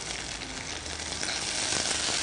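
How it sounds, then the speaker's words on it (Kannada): Ginger-garlic paste and boiled peas sizzle steadily in a hot pan, a loud, continuous frying hiss close by with no talk. "ಶುಂಠಿ ಬೆಳ್ಳುಳ್ಳಿ ಪೇಸ್ಟ್, ಮತ್ತೆ ಬೇಯಿಸಿರುವ ಬಟಾಣಿ ಎಲ್ಲ ಒಟ್ಟಿಗೆ ಹಾಕಿ ಫ್ರೈ ಮಾಡ್ಕೊಂಬ"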